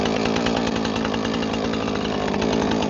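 A chainsaw runs continuously at high revs while cutting large log rounds into firewood, loud and close with a steady, rough buzzing drone throughout.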